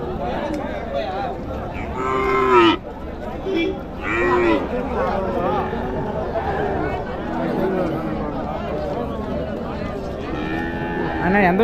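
Cattle, including Tirupattur cattle, moo loudly several times at the Uthangarai livestock market, long low calls rising over a busy crowd with people talking throughout.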